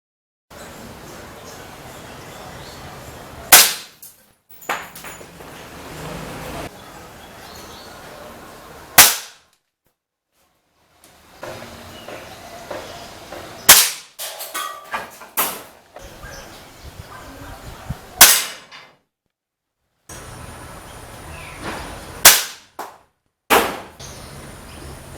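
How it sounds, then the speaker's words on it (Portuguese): Sharp, loud gunshots fired at targets ring out one at a time, each followed by a short metallic ricochet echo, with pauses and background noise between shots. "Vamos dar uma olhadinha então aí nos disparos aí em velocidade normal"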